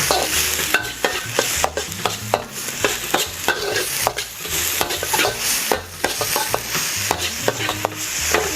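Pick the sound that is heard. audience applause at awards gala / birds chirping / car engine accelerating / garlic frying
garlic frying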